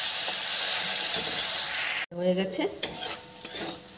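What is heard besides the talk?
pointed gourd (potol) frying on high gas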